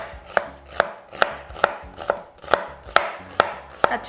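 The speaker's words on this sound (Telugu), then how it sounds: "పచ్చాగా అప్పటికప్పుడు మనం కట్ చేసేసుకొని వేసేసేయాలన్నమాట." Raw onions chopped with a knife on a board for a pot-cooked chicken dish, the blade striking in a steady rhythm of about nine crisp, close thuds, roughly two per second, with no talking.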